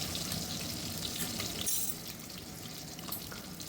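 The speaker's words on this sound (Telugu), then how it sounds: "చూసారు కదా ఎలా అంటుకోకుండా నీట్గా వేగుతున్నాయో" Eggs frying in a stainless steel pan for egg curry, a steady close sizzle with crackling pops that eases slightly partway through, no talk.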